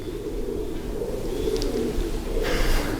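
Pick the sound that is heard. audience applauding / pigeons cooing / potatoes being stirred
pigeons cooing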